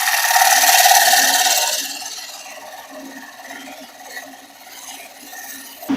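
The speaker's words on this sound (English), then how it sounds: "bring my bowl gouge from the center and just work it very easily out here to the edge, kind of a scraping motion" A bowl gouge scrapes across the wooden face of a spinning penny plate on a lathe, a steady hissing rasp that starts loud for about two seconds and then eases into a softer, continuous scraping.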